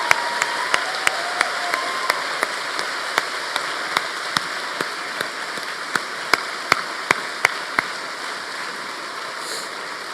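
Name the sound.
applause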